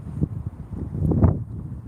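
Gusty wind buffets an outdoor microphone, low rumbling bursts that swell and fade unevenly, fairly loud and close, with no speech.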